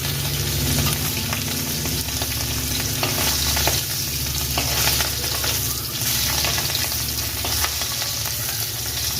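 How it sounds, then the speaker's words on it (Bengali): Two large tangra fish frying in hot oil in a wok, a loud, steady sizzle and crackle that runs unbroken and close, with spatters rising and falling a little and no talking over it. "এদিকে প্রথমে এই ট্যাংরা মাছ দুটো ভেজে নেবো"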